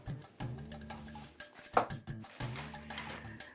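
A kadhai and pans are handled at a kitchen stove while Maggi noodles are made: sharp metallic clanks, clinks and scrapes in irregular bursts, close by, with no talking.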